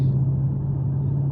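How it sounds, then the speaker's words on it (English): A 2021 Dodge Challenger Scat Pack muscle car idles with a steady, deep low rumble, close and continuous with no talking. "this is my 2021 Dodge Challenger Scat Pack"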